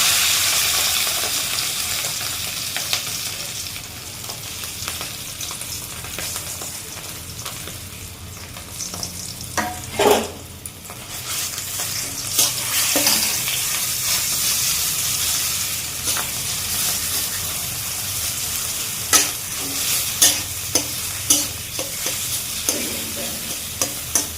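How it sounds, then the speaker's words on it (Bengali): Karkal filling being stir-fried in a kadai, a steady sizzle with scraping stirs and occasional louder clinks throughout, close and continuous with no talk. "এবার এটা কড়াইতে একটু নেড়ে চেড়ে নেব, একটু ভাজবো।"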